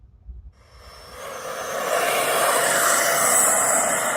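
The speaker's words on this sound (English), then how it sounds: "we're going to watch him fly the Xfly T7, which is a great plane" A jet engine's rushing roar swells in from quiet and grows steadily louder, a hissing whine of an Xfly T7 radio-controlled jet plane passing close by.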